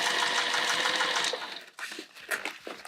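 A sewing machine stitches a seam a little at a time, a close, steady whir for just over a second, then tapering into short, uneven spurts.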